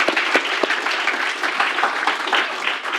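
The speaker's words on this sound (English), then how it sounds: "A round of applause, guys." An audience at an HR conference in London claps loudly and continuously, with a few sharper individual claps standing out from the steady crowd applause.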